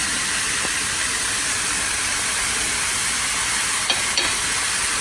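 A pound of ground pork hissing in a hot pan, a steady even sizzle throughout with a couple of faint clicks near the end.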